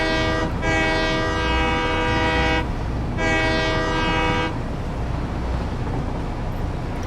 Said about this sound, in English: hear if the train horn has the Doppler effect when it goes by